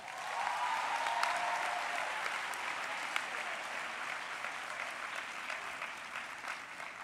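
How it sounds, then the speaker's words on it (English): A graduation ceremony audience gives sustained applause that fills the hall with dense clapping, steady and continuous for several seconds while gradually easing off. "let us give the Acting Dean, Dr. Jacques Mathieu, a round of applause"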